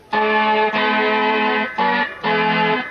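Three sustained brassy synthesizer notes from a brass preset, bright and buzzy, played one after another with short gaps, close and fairly loud.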